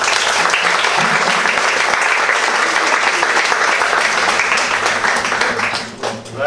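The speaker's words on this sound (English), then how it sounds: "All right, so give them a round of applause." An audience bursts into strong, continuous applause for young kids after a summer camp play, a close and full sound lasting several seconds before thinning out at the very end.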